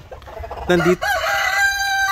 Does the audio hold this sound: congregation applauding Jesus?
no